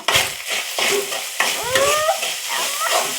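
Food with coriander leaves stirred in a pan, bursts of scraping and light sizzle repeating close up, with brief voices and a squeaky vocal sound in the background.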